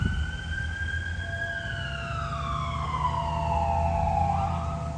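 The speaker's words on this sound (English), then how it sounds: "and the sirens. I think that's ambulance." An ambulance siren wails in a long descending tone over steady traffic rumble, fairly distant and continuous throughout.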